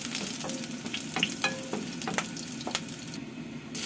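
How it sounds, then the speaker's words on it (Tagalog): Garlic sautéing in a pan for ginisang giniling, a steady close sizzle broken by scraping stirs of a utensil against the pan, with no talk. "maglalagay na tayo ng bawang. Yan ating igigisa."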